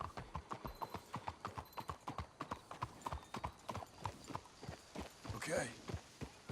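Horse hooves clip-clop in Red Dead Redemption 2, a steady brisk rhythm of close, crisp strikes on hard ground continuing throughout, with a brief louder scuffle near the end.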